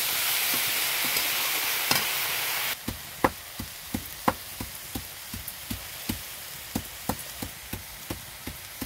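Leafy greens hit hot oil in a pan with a bright sizzle, then are stirred with a utensil, making sharp, regular scraping knocks about twice a second over a softer frying hiss.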